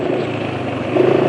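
A car engine runs steadily just after an oil change, with a fairly smooth, not very rough tone, though the revs drop quickly and vibration is building; a continuous close hum throughout with a slight swell near the end.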